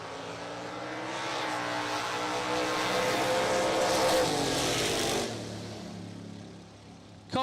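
Two vehicles, a Ford Ranger and a Ford Mustang, launch and roar down a bracket drag racing strip, engine noise swelling loud with rising pitch before cutting off and fading near the end, no talk.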